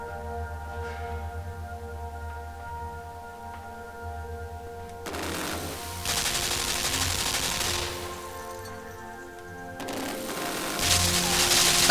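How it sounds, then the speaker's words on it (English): Machine gun fire in the dark puzzle-platformer LIMBO, arriving in loud, dense bursts of rapid shots over a low droning game ambience, with a second burst near the end. "we have to face the deadly machine gun head on then"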